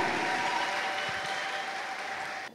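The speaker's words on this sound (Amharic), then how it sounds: "አጨብጭቡ አሜን በሉና" A church congregation claps together in a dense, sustained burst of applause that carries on evenly for a couple of seconds before cutting off.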